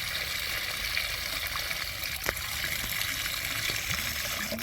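Dirty water from cleaning artificial turf in a gym drains away in a steady gushing trickle, a continuous wet wash with a faint click partway through.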